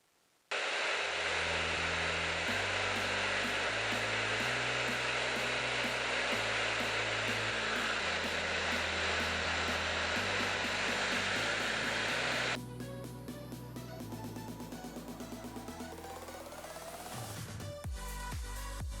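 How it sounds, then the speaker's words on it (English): A blow dryer on a heat setting, used to melt down a wig, runs as a loud, steady whooshing roar close by, then drops to a slightly lower, rougher tone partway through before cutting off near the end. "I'm trying to use blow dry on heat to melt down this wig even more"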